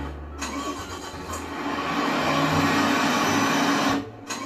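A big truck in Euro Truck Simulator 2 with its turbo spooling: a steady mid-pitched engine drone rising into a whistling whine, loud and continuous, then cutting off near the end.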